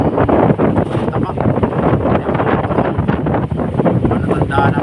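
Strong wind buffeting the microphone in a loud continuous rumble, gusting throughout, with water or surf sounds mixed in.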